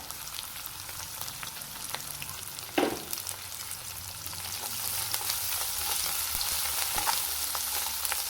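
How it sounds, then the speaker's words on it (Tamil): Cabbage stir-fry with chili and salt sizzles steadily in a pan, close and fairly quiet, with a sharp spoon scrape partway through and continuous frying crackle, no voice. "நல்லா கிண்டி எடுப்போங்க மிளகாய் சேர்த்துக்கோங்க உப்பு சேர்த்துக்கோங்க"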